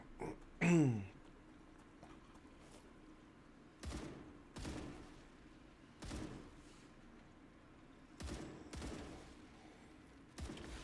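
Bursts of gunfire in StarRupture pop out in short, separated volleys over a low hum, with a sharp sweeping blast near the start.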